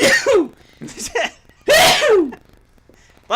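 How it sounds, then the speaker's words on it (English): A loud, wet sneeze bursts out after a couple of short breathy build-up sounds, close to the microphone, then quiet. "Oh, I'm going to sneeze."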